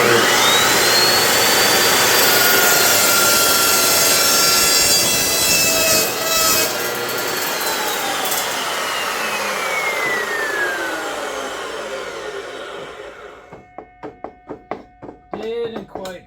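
A power saw screams through a metal corner piece, a loud sustained grinding cut that fades and winds down into a few sputtering bursts near the end.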